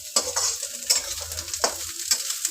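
Onion and cauliflower fry and sizzle in a pan while a spoon stirs them in repeated scraping strokes, close and steady with no talk.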